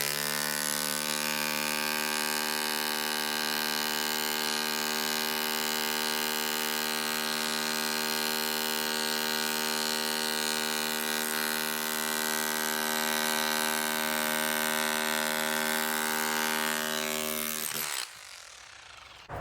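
A DeWalt SDS hammer drill with its standard chisel bit runs steadily against brick, a loud, sustained harmonic buzz holding for about seventeen seconds before cutting out abruptly near the end.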